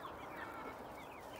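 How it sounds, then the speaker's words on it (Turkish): Chickens and their chicks cluck softly at a farmyard coop, a faint, scattered chatter of small calls and peeps with no talking over it. "Civcivlerimiz, tavuklarımız."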